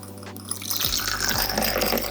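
Water pours from a tap into a water bath for heating test tubes, a steady close gush of liquid filling a container with a rising, bubbling wash and no talking.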